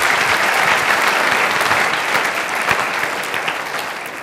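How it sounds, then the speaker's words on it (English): A large audience breaks into sustained applause at a talk, a thick, continuous roar of many clapping hands, loud and even, slowly tapering toward the end. "Give him a round of applause for asking a very powerful question"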